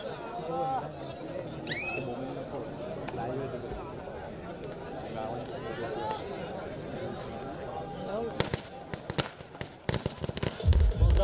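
A crowd at a kabaddi match chatters steadily, then a rapid string of sharp firecracker bangs bursts out near the end, loud and crackling over the hubbub.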